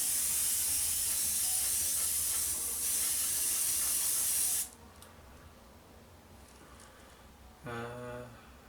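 An airbrush lays a very thin coat of paint on a 1/48 Mitsubishi A6M2 scale model with a loud, steady spray hiss for about four and a half seconds. The hiss then cuts off, and a soft voice follows.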